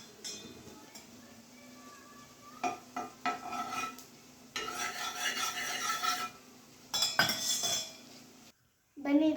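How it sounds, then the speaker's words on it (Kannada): Dosa batter spread across a hot pan for a pepper dry meal, with repeated soft rasping and scraping strokes and light metallic clinks, moderately close, followed by a brief pause and a final scrape. "ಸೊ ಬನ್ನಿ ದೋಸೆ ಹಾಕ್ತಾಯಿದ್ದೀನಿ."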